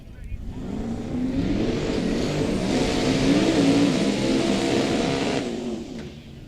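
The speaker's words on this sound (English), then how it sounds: "The only thing he knows is all burnout." A drag racing car doing a burnout at a South Georgia drag racing event, its engine revving loud and steady for several seconds with tire roar, close by, fading toward the end.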